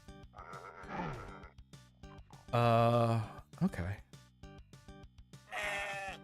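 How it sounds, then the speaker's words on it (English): A snarling, bleating goat-like creature in the Doom WAD video game cries out in several loud, drawn-out bursts, with short game clicks between them and a brief spoken word. "I don't know a goat that makes that snarl noise."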